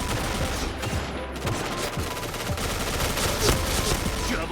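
Rapid bursts of gunfire fill a shooting match in the video game Point Blank, with overlapping automatic fire and single shots crackling loud and steady throughout, under a faint background voice.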